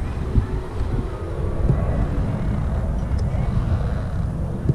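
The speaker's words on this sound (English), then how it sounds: "Sorry about the airplane noise above." A fixed-wing airplane passes overhead outdoors beside a skate rail, a steady low rumble with wind buffeting that stays constant throughout, fairly loud and continuous with no talking.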